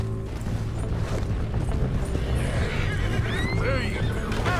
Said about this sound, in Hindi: मेरा घोड़ा दौड़ क्यों नहीं रहा है, दौड़ ले भाई